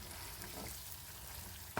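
Paneer frying in oil while being gently stirred makes a continuous close sizzle, with a short sharp scrape or clatter right at the end.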